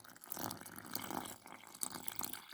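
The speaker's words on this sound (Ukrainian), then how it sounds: "В заглиблення вливаю стакан води звичайної" A glass of plain water poured into a well in sifted flour, a quiet, steady splashing trickle lasting a couple of seconds, heard close in a kitchen.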